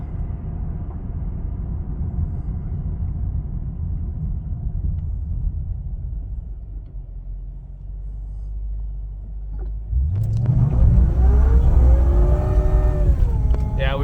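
A supercharged V8 TOM'S Racing Toyota Celsior idles with a low rumble on a back road, then the engine roars as it accelerates hard, rising in pitch and loudness toward the end.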